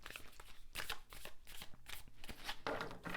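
Tarot cards being shuffled by hand, a steady run of soft riffling and slapping bursts, close and quiet.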